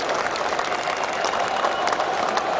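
A crowd at a national debate competition gives warm, continuous applause for the speakers coming on stage, a dense steady clatter of many hands from a large audience.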